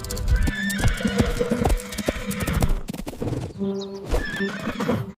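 A horse whinnies with a long, loud neigh, and hoof clip-clops thud in a steady rhythm beneath it, with a second neigh toward the end set in a busy children's alphabet song mix.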